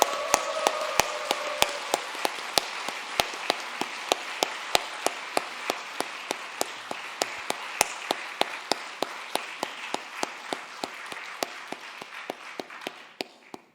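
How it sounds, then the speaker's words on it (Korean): Steady rhythmic clapping from a church congregation welcoming a newly registered member during a Sunday service, sharp regular claps continuing for over ten seconds and slowly fading out. "힘찬 박수로 환영하겠습니다."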